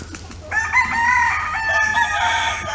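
A full-grown, roughly five-year-old rooster, small for a chicken, crows once in a sustained call lasting about two seconds, close and clear on a farm with faint background noise.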